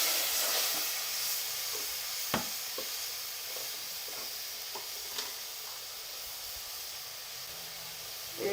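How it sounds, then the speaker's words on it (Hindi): Chicken meat frying in a pot with a little water, a steady soft sizzle and hiss running throughout with a few light clicks and stirring taps, no voices. "अब इसको अच्छे से फ्राई कर लें ताकि इसकी स्मेल ख़त्म हो जाए गोश्त की।"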